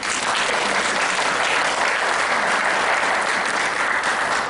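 A church congregation applauds together during a worship service, a steady dense wash of clapping held at an even level throughout with no voices over it.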